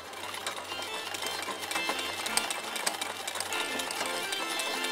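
A sewing machine stitching back over a pulled thread on a small crocheted doily, a steady fast mechanical whirr with rapid needle clatter running continuously at close range.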